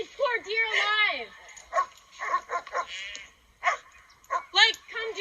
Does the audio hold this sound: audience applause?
no